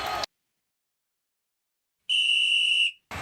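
A single shrill referee whistle blast at a football match, about a second long, piercing and clear after a moment of silence.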